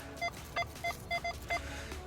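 A series of about six short electronic beeps from a metal detector signalling a find, in a quick, uneven rhythm, clear over a quiet background.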